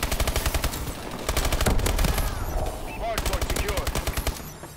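Rapid automatic gunfire in the first-person shooter AW during a ranked online match, sustained bursts of close, loud shots with brief gaps, and a voice talking beneath the firing.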